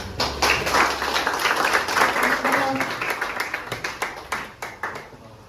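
A school audience claps after a student presentation, dense at first with some voices mixed in, then tapering off into a few separate claps.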